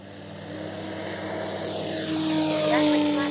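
An E-flite Carbon Z T-28 RC warbird takes off, its electric motor and propeller building into a loud, steady drone that rises in pitch as it climbs away.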